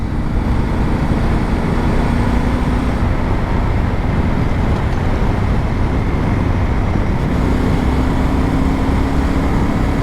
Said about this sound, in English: I'll leave you to enjoy the scenery and the sound of the engine for a while.